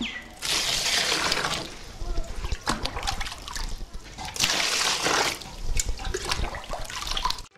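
Water splashes and gushes as twenty litres are poured into a container already holding aloe and cow urine, mixing a farm spray solution; two long, loud pouring bursts with sloshing between them.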